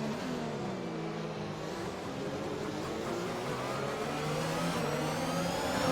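Race car engines rev continuously in a racing video game set at a Canadian circuit, a steady mid-pitched whine with rising and falling gear pitch, loud and unbroken, no voices over it.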